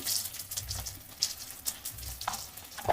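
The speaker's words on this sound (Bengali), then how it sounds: "এবারে এটাকে ভেজে নেব একটু লাল লাল করে" Potato pieces coated with turmeric fry in a pan, giving a close, moderate sizzle with scattered stirring scrapes and light clatters, uneven bursts rising and falling over a few seconds, with no voices.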